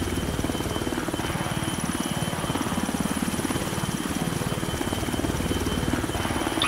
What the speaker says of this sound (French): Il y en a qui ont envoyé passer l'hélicoptère.